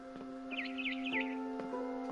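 A barn swallow chirps outside a window in the video game What Remains of Edith Finch, with a short run of quick, fairly faint twittering notes over a steady, soft tonal background.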